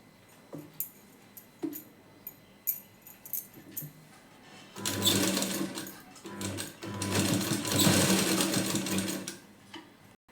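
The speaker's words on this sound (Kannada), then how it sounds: "ಇವಾಗ ನಾನು ಇನ್ನೊಂದು ಸ್ಟಿಚ್ಚನ್ನು ಹಾಕ್ಕೊಳ್ತೀನಿ" A sewing machine stitches a blouse, first in a few short clicks and taps, then in two loud sustained runs of rapid rattling stitching close up, with no talking.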